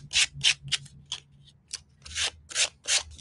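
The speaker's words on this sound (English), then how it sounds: "So I'll just use my sandpaper" Steady rhythmic rasping of sandpaper rubbed back and forth along the edges of a decoupage canvas, several quick strokes with a brief pause midway, close and fairly loud.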